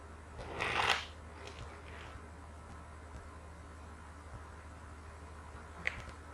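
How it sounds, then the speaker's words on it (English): A short riffle of tarot cards being shuffled, a brief papery burst near the start, then quiet room tone with a faint tap later. "Okay, one more shuffle."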